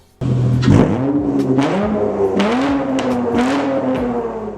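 An Acura TL with a loud, raspy straight-pipe exhaust revs repeatedly, the engine pitch rising and falling in quick pulls, close and continuous.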